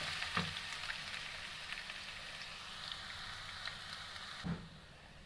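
Garlic ginger paste sizzles in a pan with medium-browned onions, a steady close hiss of frying broken by a couple of brief stirring knocks.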